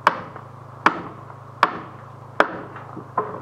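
Five sharp hammer blows drive nails into a wooden deck joist, spaced roughly evenly and ringing close by over a low steady hum.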